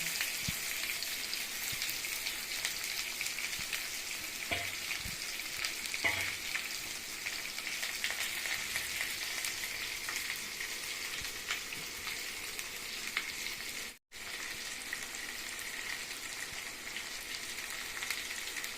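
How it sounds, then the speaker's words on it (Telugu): Onions and curry leaves frying in hot oil with mustard seeds and cumin give a continuous crackling sizzle with scattered pops. A brief dropout comes late, then the frying resumes steadily. "కట్ చేసుకున్న ఆనియన్స్ వేసుకోవాలి కరివేపాకు కూడా వేసేసుకోవాలి"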